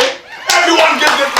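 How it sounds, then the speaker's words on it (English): Scattered hand clapping from a small group on a dating show, starting about a third of the way in and continuing under talking voices. "Everyone give this man a round of applause for that exquisite form and execution."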